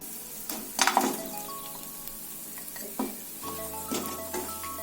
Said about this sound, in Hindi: अब इसमें मैं डालूंगी गुड़।